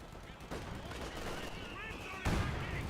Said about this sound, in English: Massive mortar hit there.